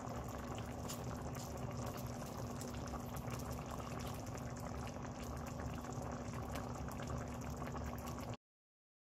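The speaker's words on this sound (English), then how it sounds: "Cook sago." Sago cooking in a pot of boiling water, a steady, dense bubbling and churning that runs unbroken for about eight seconds before cutting to silence.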